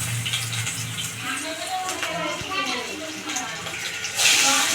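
Mashed lentil fritter batter frying in hot oil, pakora-style, with a steady sizzling hiss and bubbling throughout, growing louder near the end, while a voice speaks over it.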